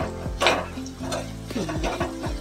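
Chickpeas and potatoes with turmeric are stirred in a pan, a spoon scraping and clacking against the metal in several close strokes over soft frying sizzle.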